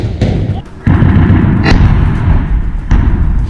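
Gunfire in war footage as an Al-Qassam Brigades fighter opens rapid fire on a distant Israeli soldier standing on a road; dense, loud rumbling bursts with a few sharp cracks, distorted and continuous throughout.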